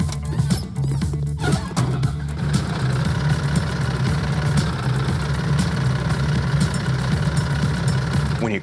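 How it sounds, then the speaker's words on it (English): Bus engine in a video game idling steadily with a low rumbling hum, loud and continuous throughout, with no talk over it. "The bus makes sounds."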